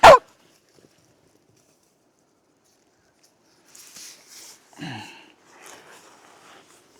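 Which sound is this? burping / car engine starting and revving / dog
dog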